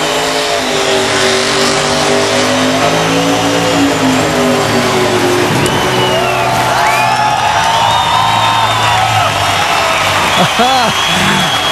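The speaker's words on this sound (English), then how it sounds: "He does one of the best burnouts, too." A NASCAR Nationwide Series race car engine roars and revs loudly as tires squeal through a burnout in Mexico, while a crowd cheers and a commentator talks over it.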